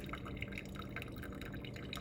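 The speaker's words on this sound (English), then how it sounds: "What I'll do is just pour and fill that sucker up to here." Hot water poured over coffee grounds in a brewer, with quick light drips and trickles close by, steady and soft with no voices.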